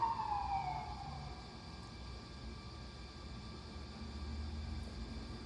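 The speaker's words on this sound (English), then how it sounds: "It might be a police car or an fire brigade, something like that." A police car or fire engine siren passes by, heard as a brief falling wail near the start that quickly fades into a steady, droning background hum.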